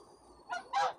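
A goose, one marked with green antiseptic on its neck, gives two short nasal honks in the second half, the second louder and longer, close by with a faint steady background hum.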